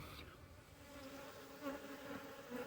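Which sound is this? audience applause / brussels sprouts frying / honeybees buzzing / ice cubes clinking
honeybees buzzing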